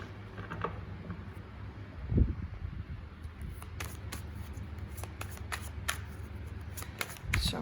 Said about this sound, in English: let's shuffle and see how it shuffles.